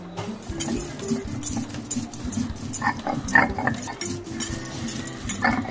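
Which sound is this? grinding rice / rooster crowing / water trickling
grinding rice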